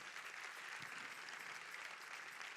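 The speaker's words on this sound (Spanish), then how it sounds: "Denle un aplauso al Señor." A church congregation applauds during a Spanish-language sermon, producing an even, continuous patter of clapping that sounds faint and distant, with no voices over it.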